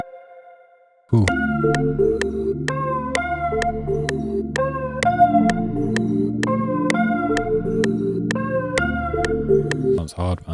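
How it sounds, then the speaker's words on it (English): Synth chords from the Sunrise and Turks preset in Analog Lab, used in a new-age R&B beat: sustained layered pads with bright, bell-like plucked notes striking in a regular pattern, played alone. "That's the Sunrise and Turks preset from Analog Labs pack."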